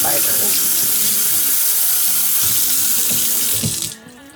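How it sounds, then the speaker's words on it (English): Warm tap water runs steadily over a floor finish applicator pad being rinsed and rubbed by hand in a sink, a loud continuous splashing rush that cuts off near the end. "rinse this under warm water and rub with your hands"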